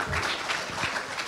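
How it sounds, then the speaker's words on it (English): An audience claps for a speaker at the official opening of the KMF Agro Processing Plant in Rietfontein, a short burst of moderate, steady applause from a gathered crowd. "let us thank him by clapping for him because he can't thank himself."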